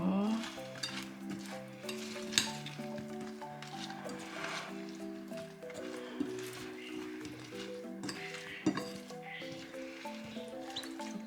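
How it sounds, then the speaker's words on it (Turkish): Oven-roasted potatoes for a potato salad being gently stirred from the bottom upward, with soft scraping and squishing and light clinks of utensil on dish, close and steady, over a faint background musical tone. "Şöyle hep aşağıdan yukarıya doğru güzelce karıştırıyorum."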